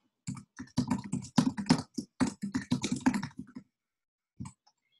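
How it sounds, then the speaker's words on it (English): Close, rapid typing on a computer keyboard: dense clusters of crisp key taps in quick irregular bursts for about three seconds, then silence and a couple of final taps near the end. "I'll just type in a basic introduction of myself"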